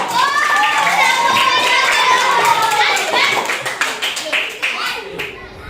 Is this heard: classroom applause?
yes